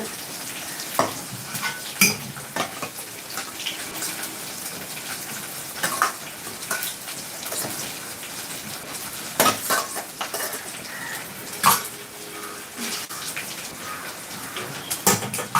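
Food is stirred in a frying pan at home. A spatula scrapes and clinks against the metal in irregular bursts over a low background sizzle, close and fairly loud, with no talking.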